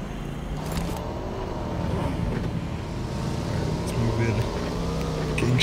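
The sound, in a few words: motorbike engine in video game PUBG Mobile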